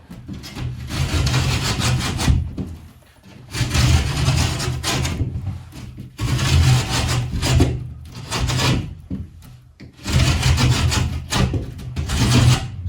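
A drywall edge is shaved down about an eighth of an inch during a mobile home restoration, giving rough, scraping rasp strokes in four close, loud bursts separated by short pauses.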